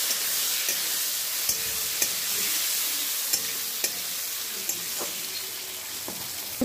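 Diced potatoes with salt and turmeric sautéing in a pan for a fish curry, a steady close sizzle broken by a few sharp clicks of a spatula stirring.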